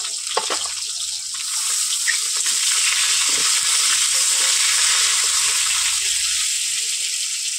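Potatoes and Malabar spinach stalks fry in hot oil in a kadai, giving a steady, close, bright sizzling hiss that holds through the whole stretch with only faint clinks.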